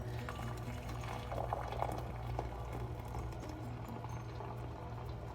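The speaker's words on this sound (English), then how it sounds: "we are going to pour it into the measuring cup" Hot water poured from a tea kettle into a measuring cup, a steady splashing, bubbling stream that holds at an even level for several seconds, with no talk over it.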